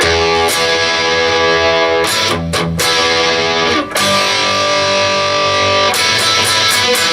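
Distorted electric guitar plays section 5 of a song in a loud, steady strummed riff, with brief breaks and accented chord hits and no talking.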